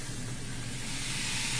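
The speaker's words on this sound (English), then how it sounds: "Sizzle it up, walk away" Burgers sizzle steadily in a hot pan, a continuous broadband hiss and crackle that holds at an even, fairly loud level from start to finish with no voices over it.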